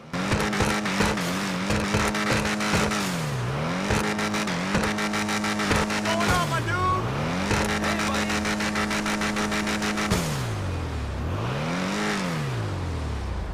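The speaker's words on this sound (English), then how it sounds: "the exhaust, the engine sound, and that turbo sounds pretty good" The Karin Previon in GTA Online revs hard through repeated gear changes, with a loud exhaust note rising and falling in swooping sweeps and sharp shift pops, heard close and continuous.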